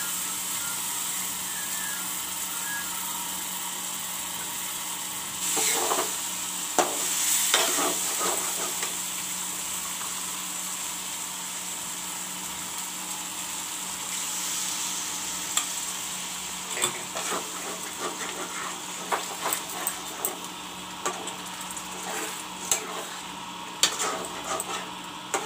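A paste of tomato and coriander leaves sizzles in a hot pan with a steady hiss. A spoon stirs and scrapes it now and then, and the clatter grows busier toward the end.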